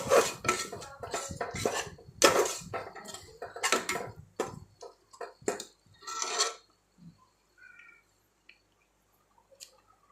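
Egg biryani ingredients with garam masala being stirred in a little oil in a pot, brisk metallic spoon clatters and scrapes for several seconds, then a few sparse faint clinks trailing into quiet.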